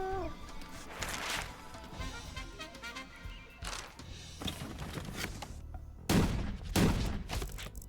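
Cannon fire in a real-time strategy match, with repeated booming volleys and crashes scattered over a busy battle soundscape, including heavier thuds near the end.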